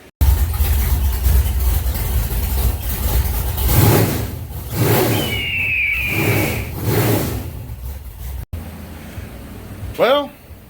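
A car fitted with new NGK spark plugs revs in several loud, rising and falling surges, close and rough, then the engine note drops away before a short chirp near the end.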